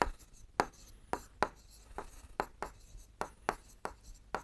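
Chalk or marker strokes on a board during a Hindi-medium class 7 maths lesson on perimeter and area, a quick irregular series of about a dozen short scratchy taps, close and fairly quiet, with no talking.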